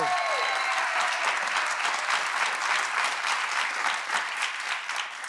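Studio audience applause during a televised interview, even and sustained clapping from a crowd at moderate distance, heard alone for a few seconds.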